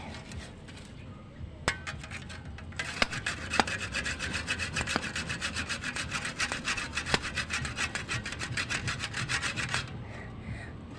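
Repeated back-and-forth strokes of a hand saw cutting through wood, steady and close, running continuously for most of the stretch with a few sharp knocks, then stopping near the end.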